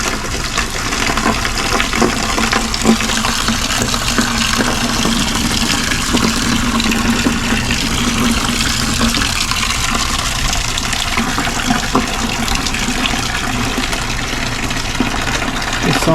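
Steady rushing water gushing out continuously as an RV camper water heater is drained, a broad even hiss with a low hum underneath, close and fairly loud throughout.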